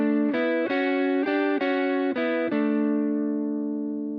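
Distorted electric guitar riff harmonized in fourths, two parallel lines moving through five or six sustained chord changes in a steady rhythm before the last one rings out and fades.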